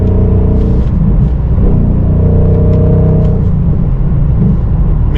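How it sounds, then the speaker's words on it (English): A 2019 Ford Mustang Bullitt engine idles with a loud, close, deep rumble that holds steady throughout, with slight rises in revs. "just really well done here by Ford on this Bullitt Mustang, and I love the sound."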